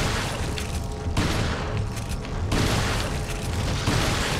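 Gunfire in the horror game Resident Evil 4 cracks in a few loud booming shots with reload mechanism clicks between them, close and punchy over a dense rumbling game background, no talk.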